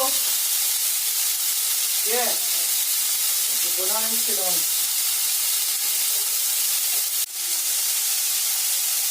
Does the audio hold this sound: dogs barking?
no